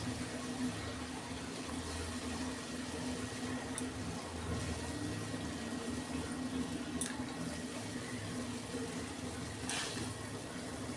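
Hilsa fish pieces are dropped into a bubbling curry gravy in a pot: a steady, low, soft simmer runs throughout, broken by a few faint clicks and splashes, with no talking.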